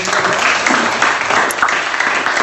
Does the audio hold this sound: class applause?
yes